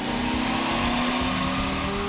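An Audi R8 engine held at steady high revs on a dyno during a power run, a sustained loud mechanical drone with a constant engine tone and no talking.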